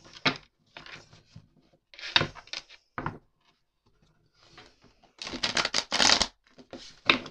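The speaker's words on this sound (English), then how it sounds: "Give it another quick shuffle." Tarot cards being shuffled in several quick riffling bursts separated by short pauses, close and crisp, with a louder flurry near the end.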